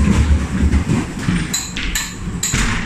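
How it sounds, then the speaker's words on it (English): A ghost train ride car at Flamingo Park rattles and clunks along a track, with rumbling wheels and sharp metallic clatters close by, loud throughout. "we're about to go on the ghost train"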